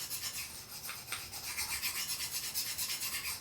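Knife being sharpened on a stone with fast back-and-forth strokes, an even rhythmic rasping about seven strokes per second, close and continuous without speech.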